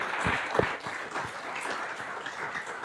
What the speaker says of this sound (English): let's get a round of applause for all the people who have put the work into organizing it